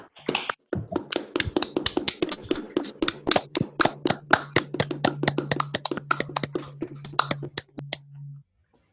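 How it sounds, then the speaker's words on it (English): Scattered claps from unmuted participants on a video call after a quantum field theory talk, ragged and uneven at first, then settling into a fairly steady patter of close, individual hand claps before cutting off, with a faint hum underneath. "Let me unmute everybody so we can clap."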